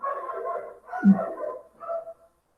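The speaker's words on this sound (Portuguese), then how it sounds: "Meus cachorros começam aqui, vocês desculpam, gente." A few muffled dog barks and yips in quick succession, somewhat distant, with a short gap before a final softer bark.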